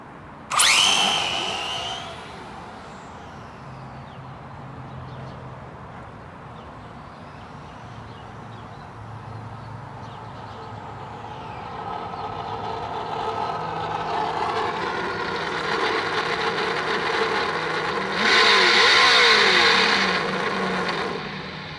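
Traxxas Drag Slash RC car on a 3S battery launching up onto its wheelie bar and setting back down: a sharp burst of high motor whine at the start, then a sustained buzzing drone that grows louder and peaks near the end.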